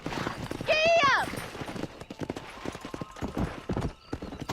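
In the game Red Dead Redemption, a ridden horse's hooves clip-clop in a steady rhythm. A loud whinny comes early on, and a voice talks over the riding.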